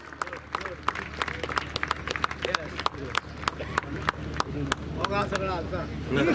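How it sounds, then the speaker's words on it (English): An audience at the 37th National Games inauguration at Ponda Sports Complex applauds, with scattered sharp claps at moderate distance mixed with crowd noise and voices talking. "A big round of applause"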